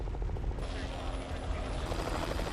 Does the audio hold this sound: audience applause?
no